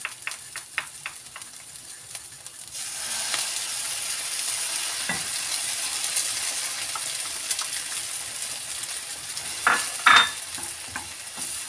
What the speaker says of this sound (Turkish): Bunları karıştırıyorum.